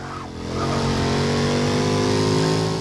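Jaguar F-Type Project 7 in Forza 6, its engine held at a loud, sustained rev while the car drifts. A steady harmonic drone swells after a brief lower start, with no talking.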